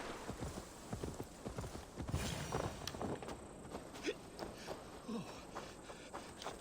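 A tired horse plods along at a slow walk in the video game Assassin's Creed Valhalla, its hooves giving a steady, close clip-clop rhythm over soft ambient outdoor background.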